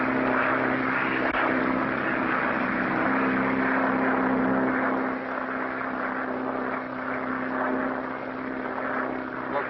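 A propeller airliner takes off on a transatlantic flight, its engines a steady loud droning hum with a fixed tone, heard alone through a narrow, old broadcast-quality recording.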